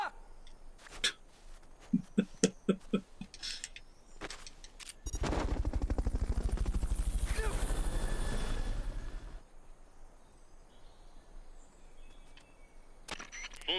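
A helicopter in the video game Metal Gear Solid: Peace Walker, during a Fulton recovery, gives a loud, steady, pulsing rotor roar for about four seconds mid-clip, framed by scattered short clicks and game effects.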